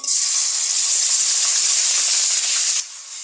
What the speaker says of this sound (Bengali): এখন বন্ধুরা পেঁয়াজ রসুন বাটা দিলাম